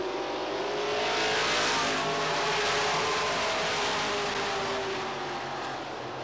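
Race cars lap a short oval racetrack, a dense continuous engine roar of several cars running together at steady high revs, loud and close throughout, with no talking.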